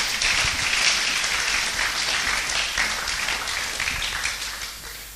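A church congregation applauds during a sermon, a dense close burst of many hands clapping that gradually tapers off toward the end.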